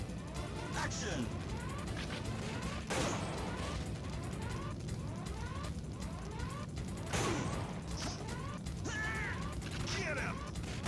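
Repeated gunshots and clicking mechanical action from the arcade light-gun shooter Time Crisis, with sharp bursts at intervals over a busy game soundscape, while a voice talks over it.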